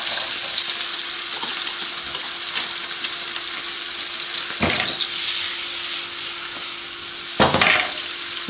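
Chopped onion sizzling in melted margarine and oil in a pan, a steady bright frying hiss with a few louder scraping stirs partway through, close and with no talking.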